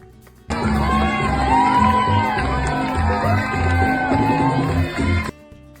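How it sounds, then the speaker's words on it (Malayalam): At the Canberra Multicultural Day parade, a crowd cheers, whoops and shouts in a loud, dense burst of overlapping voices that starts abruptly and stops just as suddenly. "കൊട്ടും പാട്ടും ആർപ്പുവിളികളും ഒക്കെ ആയിട്ട് മൾട്ടി കൾച്ചറൽ ഡേ പരേഡ് ഗംഭീരമായിരുന്നു"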